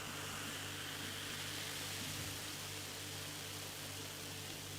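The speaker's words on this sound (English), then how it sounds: "Can you hear that? A real hiss on that one." A soft, steady fizzing hiss of Sainte Etienne lager carbonating in a glass, continuous and close, with no talking.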